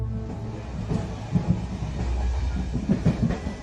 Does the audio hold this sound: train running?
yes